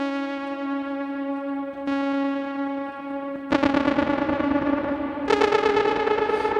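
Ensoniq ESQ-1 synthesizer playing a sustained buzzy tone with a noise waveform, held notes changing abruptly several times into a harsher, denser texture, loud and close with no talking.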